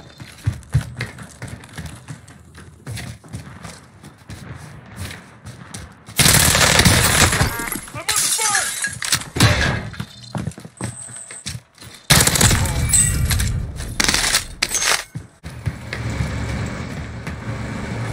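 Bursts of automatic gunfire in the battle royale shooter Warzone, with quieter scattered shots giving way to two loud, dense volleys, one around the middle and one near the end.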